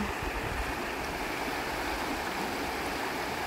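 A powerful river rushes steadily with a dense, continuous roar of flowing water, loud and unbroken throughout, with no voices.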